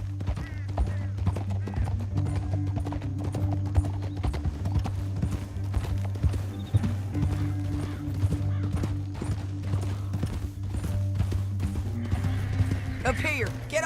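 Horses' hooves clip-clop steadily in a western film, brisk repeated strikes of several animals moving together over a low sustained drone, with a faint whinny near the end.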